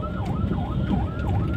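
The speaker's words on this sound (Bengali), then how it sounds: "আবার অ্যাম্বুলেন্স নাকি" An ambulance siren on a street, a loud wailing tone rising and falling in quick repeated sweeps, with road traffic rumbling underneath.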